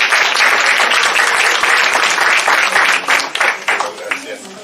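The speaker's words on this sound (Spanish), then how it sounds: "Un aplauso para..." Audience at an orchid-growing talk applauds loudly before the lecture starts, full steady clapping that thins and fades toward the end.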